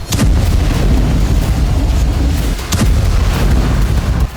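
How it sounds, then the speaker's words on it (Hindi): Bomb explosions from Israeli night strikes in northern Gaza, a loud sustained rumble of heavy booms with a few sharper blasts standing out, constant and dense throughout. "उत्तरी गाजा में रात के अंधेरे में इजराइल ने कई बम गिराए।"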